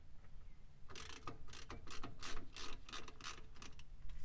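A ratchet clicks in quick, uneven bursts while bolts are undone on the differential of a 1948 Chevrolet Fleetmaster, close and fairly quiet with no talking.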